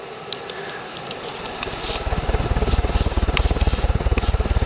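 An SMC A52 ornate 52-inch ceiling fan spinning in reverse on high speed, a steady loud whooshing drone with a fast rhythmic pulsing that builds after a quieter start, with no talking.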